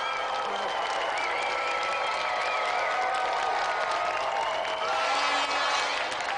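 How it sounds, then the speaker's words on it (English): A TV studio audience applauds in a steady, continuous burst of clapping with some cheering, while music and tonal sounds play along underneath. "So let's have another round of applause for Simon Hadlington and our special guest,"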